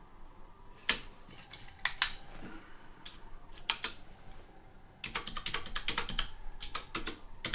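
Keys clack on a Windows keyboard used with a Mac, irregular bursts of crisp close taps with short pauses between runs, fairly quiet.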